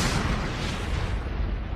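A massive asteroid airburst explosion on the scale of hundreds of megatons, heard as a sustained deep roaring rumble with a broad hissing wash, loud and steady with no talk over it.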